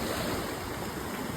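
Ocean waves produce a steady, dense wash of surf noise with no breaks, moderately quiet and unchanging across the short stretch.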